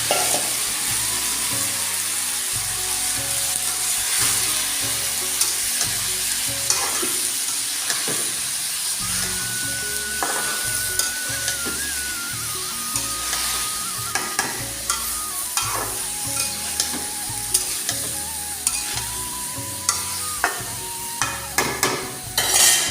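Cauliflower fries with onions already browned in the pan, giving a steady sizzle broken by repeated scraping and clinking as a spoon stirs the pieces, close and alone throughout.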